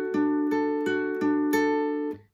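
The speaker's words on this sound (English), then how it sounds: "what you want to do is a arpeggio that sounds like this" Plucked guitar notes ring out one after another in an even, repeating pattern, each letting the earlier notes sustain, then fade out.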